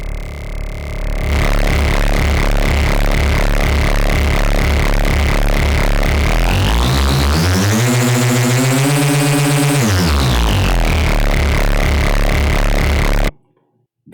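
A harsh, distorted synthesizer tone pulses loudly, its pitch sweeping up and back down in the middle before stopping abruptly.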